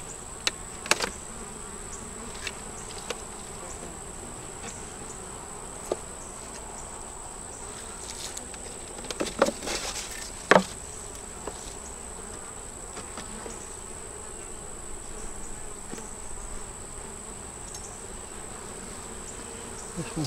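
Honeybee swarm with a queen present, a steady hum of wings at moderate distance, with a few brief louder tones and crackles breaking the continuous buzz.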